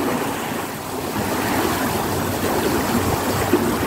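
Canal lock filling as water rushes in through opened paddles, a steady, close churning roar of water that holds throughout with no talking.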